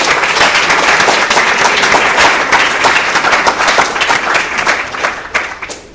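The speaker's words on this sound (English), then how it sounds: "Another round of applause for Sara for that opening speech." Steady applause from an event audience at a talk, dense clapping sustained at an even level throughout before tapering slightly at the end.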